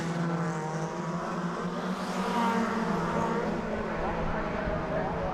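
Suzuki Swift Sport race cars circulate at Mondello Park during a semi-final race, their engines holding a steady, continuous drone throughout while a commentator talks over them.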